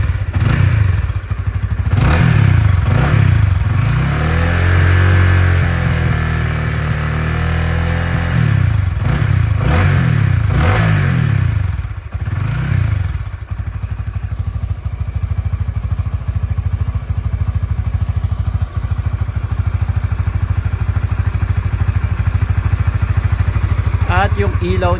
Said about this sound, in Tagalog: So napainit na natin to, umikot na yung langis sa engine, kaya pwede na natin bombahin agad.